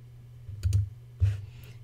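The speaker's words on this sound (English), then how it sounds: "I am going to right click on any of the photos" Two crisp computer mouse clicks, right-clicking on photos in Lightroom, spaced about half a second apart over a steady low electrical hum.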